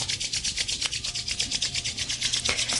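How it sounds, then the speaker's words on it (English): Palms rubbed briskly together in a yoga session, a close, steady back-and-forth swishing friction at an even quick rhythm, heard alone without talk. "And rub the palms together,"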